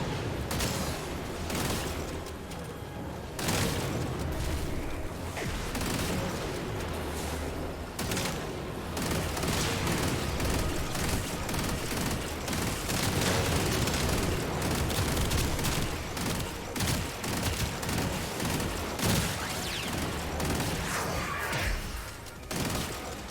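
Rapid gunfire from a weapon in the Warframe video game fills the whole stretch, with loud, dense, sustained bursts and near-continuous shots and impacts at close range.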